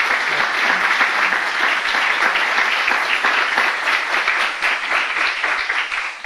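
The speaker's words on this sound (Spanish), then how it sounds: "Les pido un aplauso para el doctor Álvarez Copián." Loud, enthusiastic applause from an audience at a Spanish-language talk honoring a doctor, steady dense clapping that carries on for the full stretch without anyone speaking.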